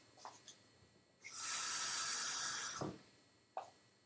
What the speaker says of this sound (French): Ensuite, tu mets de l'eau.